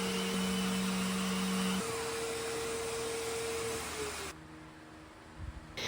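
A vacuum cleaner runs steadily and close while cleaning out a mid-century modern furniture piece, its broadband whine holding for about four seconds before the motor cuts off and only faint room noise remains.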